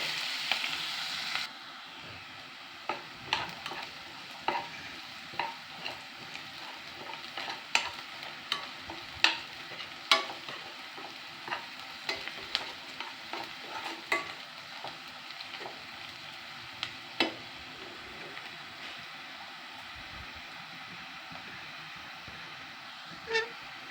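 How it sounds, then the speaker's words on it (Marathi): Chopped onion frying in hot oil in a pan, with a steady sizzle underneath and frequent sharp clicks and scrapes of a spatula stirring it, close and continuous with no talking. "आता कांदा हा तेलामध्ये तळून घेणार आहे"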